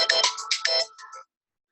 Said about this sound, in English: that was just my son's alarm to turn his movie off